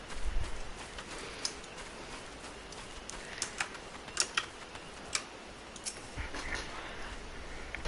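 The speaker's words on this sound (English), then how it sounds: "if you hear the loud keyboard clicking, it's because I'm using a Razer keyboard and they're loud" Clicking keys of a loud Razer keyboard, used to play Final Fantasy XIV on PS4, with sharp irregular taps scattered over a steady quiet background, sometimes in quick bursts.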